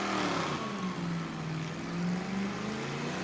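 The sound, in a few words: car doing a burnout in a burnout contest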